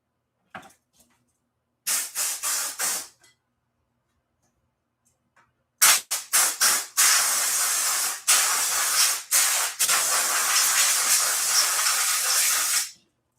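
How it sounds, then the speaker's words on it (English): An air compressor nozzle blows air to clean out a Husqvarna Viking sewing machine. A few short sharp hissing puffs come first, then after a pause a rapid string of bursts leads into a long, loud, continuous blast of hissing air. "You might hear me use the air compressor off camera. I'm going to spray this out"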